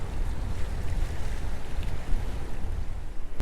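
Strong wind blows steadily across the microphone on the coast beside the sea at night, a continuous loud rumbling gust with waves faintly underneath.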